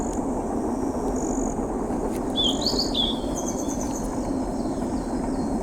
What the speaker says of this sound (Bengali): ট্রেনের শব্দ।